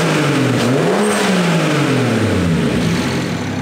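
A 700-horsepower BMW E90 335i engine revs up and down repeatedly, loud and close, its pitch rising and falling in steady sweeps.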